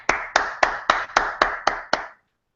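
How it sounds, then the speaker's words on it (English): Eight sharp, evenly spaced hand claps ring out close and crisp at a team meeting, each with a short decay, then stop abruptly into silence. "Give yourselves a round of applause."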